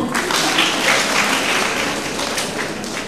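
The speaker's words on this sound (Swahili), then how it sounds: "jipige makofi" A church audience, many of them children, claps together in a steady, dense round of applause that carries loud and even throughout, with faint voices underneath.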